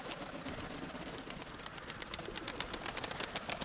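Pigeons in a dovecote, faint and a little distant, with soft cooing and a rapid series of clicking wing flaps that picks up toward the end as birds take off.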